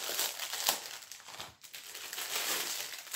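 Plastic SHEIN mailer bag being cut open with scissors: continuous close crinkling and rustling of plastic film for about three seconds, with a brief dip midway and no talk.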